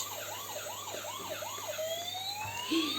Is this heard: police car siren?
yes